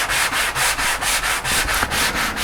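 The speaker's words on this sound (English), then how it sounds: "Miss Wizard prefers sanding by hand for some reason." Wood is sanded by hand for a DIY floor lamp, a brisk, regular back-and-forth scratching of about ten strokes, loud and close with no voices.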